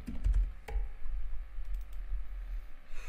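Fingers type on a computer keyboard in a few quick, light clicks and taps, close and fairly quiet, with short gaps between the keystrokes.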